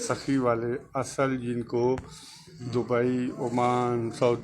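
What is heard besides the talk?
No everyday noises stand out.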